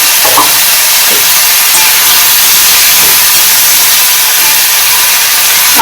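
Ginger, garlic and chilli paste dropped into hot oil, a loud steady close sizzle and hiss with a few faint stirring knocks, no talk.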